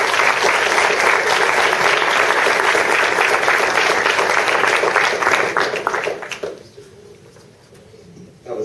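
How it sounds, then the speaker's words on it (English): An audience at a law student conference panel applauds, dense clapping from a crowd sustained for about six seconds before quickly tapering off into quiet room tone. "Let's have a round of applause for our panel"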